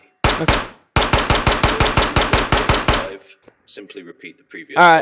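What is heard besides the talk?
SMG firing at targets in video game Ghost of Tabor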